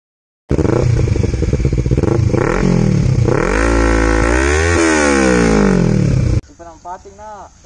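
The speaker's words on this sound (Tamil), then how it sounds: "அக்ராபோவிக் எக்ஸாஸ்ட்டு உங்களுக்கு சவுண்டு எப்போ இதுன்னு காமிக்கிறேன்." A motorcycle fitted with a replica Akrapovic exhaust revs loudly up close, rising and falling through several blips, and then the sound drops to a lumpy idle.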